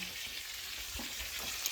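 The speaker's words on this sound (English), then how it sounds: "Look at that steak frying." Steady, close sizzling of steak frying in a hot pan, a continuous hiss with faint crackles and no talking.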